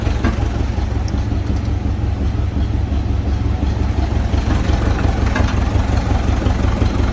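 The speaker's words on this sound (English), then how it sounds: "So yeah, backhoe runs. Case 580 Construction King." A diesel Case 580 Construction King backhoe engine idles steadily after starting, a loud, continuous low rumble with an even, unbroken drone and no voices.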